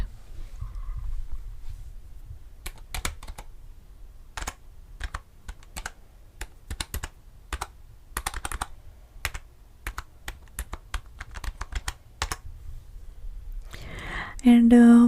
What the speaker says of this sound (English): And I will just type it in, okay?